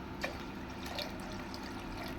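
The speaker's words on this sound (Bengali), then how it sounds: "জল দিয়ে দিচ্ছি," Water runs steadily into a cooking pot on a lit gas stove for a jackfruit pickle, a continuous close splashing fill with a brief drip near the start and no voices.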